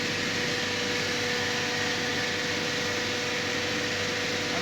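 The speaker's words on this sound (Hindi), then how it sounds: "अभी जैसे आप सुन पा रहे हैं कि और भी पंप का जो नॉइज़ है वो कम हो गया है" An oil filtration machine built by Bhagyashree Accessories, used for engine applications, runs its pump steadily with a constant mechanical hum and whine. The oil is near 76 degrees and the sound is quieter than before. No voices are heard.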